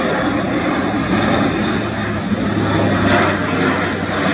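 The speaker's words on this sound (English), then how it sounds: "Four 1100 shaft horsepower Eurocrop International TP400 turboprop engines" Four Europrop TP400 turboprop engines of a German Air Force Airbus A400M Atlas drone loudly and continuously through a tactical airshow display at RIAT 2025, a steady near roar with a low propeller hum.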